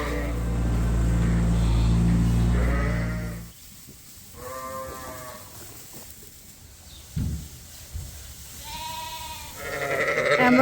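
Dorset sheep bleat on a snowy winter farm, several calls rising in turn after a loud low rumble fades, with one sheep close and others a little farther off.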